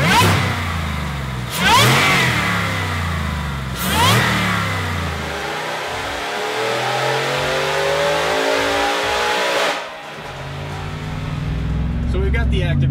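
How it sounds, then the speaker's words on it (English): Lifted Ford F-150 with roughly 600 horsepower, big 35-inch tires and its active exhaust opened up, roaring through several loud revving pulls with sharp shifts, then settling into a steady cruising drone on a road in Mexico. "So we've got the active exhaust opened up"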